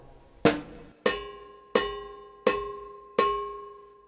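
Cowbell struck with a cross stick using full strokes and left to ring, five evenly spaced loud clanks, each followed by a sustained metallic tone that decays slowly, close and alone.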